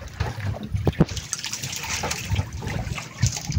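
A strong sea current flows past a small boat while squid fishing, with a close, uneven trickling and splashing of water.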